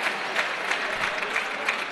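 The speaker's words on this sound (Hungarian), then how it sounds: "Nagy tapsot kapott a nézőktől." Spectators at a Hungarian men's first-division basketball game applaud steadily, a dense crowd clapping without a break.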